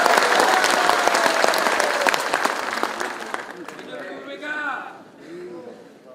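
Audience applause at a formal lecture event, dense and loud crowd clapping that fades out over a few seconds, giving way to a speaking voice.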